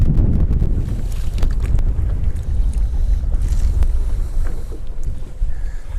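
Strong wind sweeps across open water around a fishing boat, roaring and buffeting the microphone in a continuous, loud, rumbling gust with no talking.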